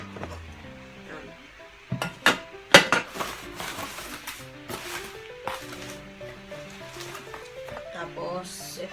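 A ceramic frying pan being unboxed and handled, with sharp clinks and knocks clustered early and scattered rustling and handling noise throughout, while a person talks over it.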